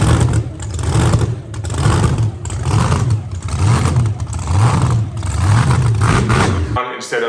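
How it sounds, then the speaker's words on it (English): A car engine idling unevenly, its revs rising and falling in a steady repeating surge instead of holding smooth, loud and close throughout with no talking over it. "Idle surge is when these engines are running and the engine RPM"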